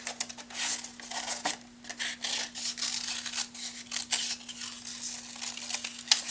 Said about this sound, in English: let's cut out a complicated shape